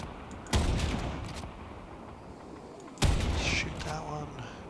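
Gunfire aimed at a hyena enemy in the sci-fi shooter Warframe: two sharp broadband bursts, each trailing into sustained noisy fire, with game ambience and a voice underneath.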